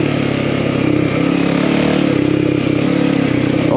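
A Himalayan 450 Rally motorcycle fitted with a FuelX upgrade rides a dirt trail, its engine a loud, close, continuous drone with steady harmonics and some rattling clatter throughout, no talk.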